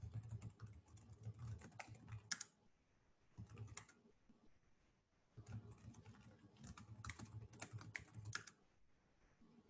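Typing on a computer keyboard during a coding workshop, quiet rapid clicks in bursts separated by short pauses, faint and close with no talk.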